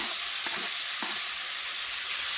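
Onions with green, yellow and red bell peppers, half-frozen, sautéing in butter: a loud, dense, continuous sizzle, with a couple of soft utensil knocks near the start.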